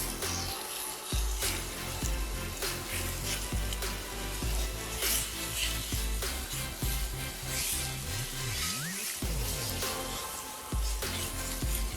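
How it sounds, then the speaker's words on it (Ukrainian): Chicken fillet frying in oil in a pan over medium heat, a steady close sizzle with scattered clicks and scraping knocks of cookware throughout. "І поки курка смажиться"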